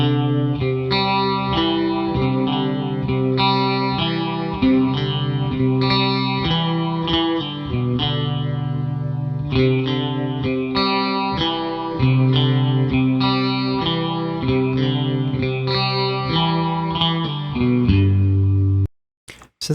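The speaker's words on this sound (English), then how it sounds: "So this one sounds a lot more like a typical chorus sound." Guitar chords ring through a harmonic tremolo set up as a chorus, giving a wavering, watery shimmer over a repeating strummed pattern that plays loud and steady for about twenty seconds before stopping abruptly.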